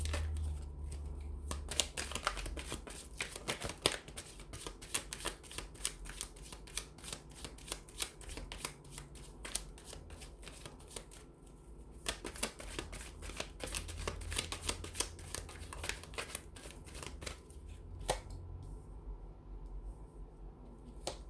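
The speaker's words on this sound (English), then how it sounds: "we'll give the cards a shuffle here" Steady, crisp riffling and slapping of a deck of tarot cards being shuffled up close, continuous for the whole stretch with no talking.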